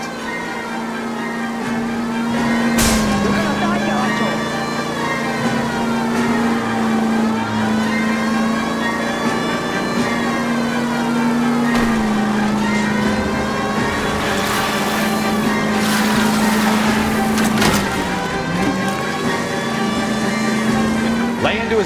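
Car engine droning steadily in a chase in LA Noire, pitch rising and falling as it accelerates and eases off, with occasional sharp knocks, under people talking.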